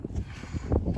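Strong wind gusting outdoors, buffeting the microphone with low, rumbling bursts that swell and fade in an uneven rhythm over a steady blustery roar, with no voices.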